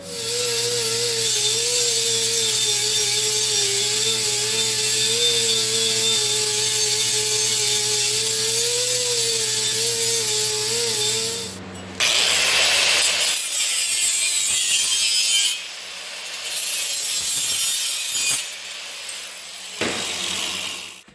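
A power tool trims sheet metal, a loud continuous whining buzz with a steady pitch that runs for about eleven seconds, then gives way to rougher, broken bursts of cutting and rattling noise with short pauses.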